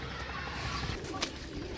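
Pigeons being sold in pairs give soft, low cooing buried in steady broadband noise, with no clear separate calls.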